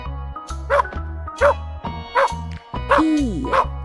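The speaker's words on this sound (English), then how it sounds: "Dog says woof woof." A cartoon dog in a children's alphabet animation barks repeatedly, short punchy woofs spaced about half a second apart over a light musical bed, with a whimpering yip near the end.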